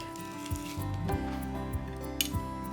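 Olive oil and garlic cloves are mixed in a bowl, with several light clinks and taps of a utensil against the bowl over soft background music.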